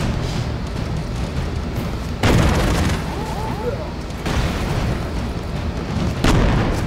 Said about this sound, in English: every single shot sets off this cascade of explosions